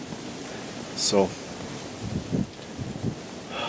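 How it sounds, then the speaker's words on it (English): Wind blowing across an open Alberta field during a whitetail deer hunt, a steady broad rush with gusty swells, heard close on the microphone while someone speaks briefly. "there's a lot of wind"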